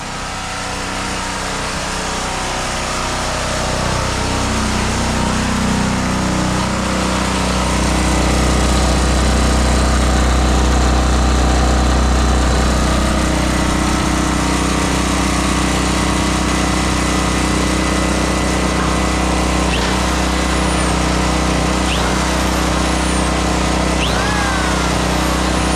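A generator's small engine runs loud and close for the whole stretch, a steady buzzing drone that swells slightly early on and then holds constant.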